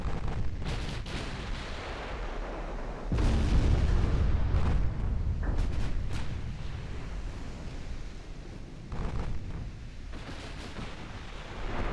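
Warship guns firing in the naval game Ultimate Admiral: Dreadnoughts, a series of sharp cannon blasts and booms over ocean wash, with one heavy roaring surge partway through and scattered distant shots afterward.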